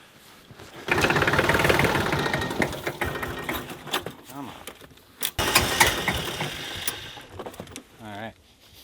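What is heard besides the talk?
tractor engine trying to start in the cold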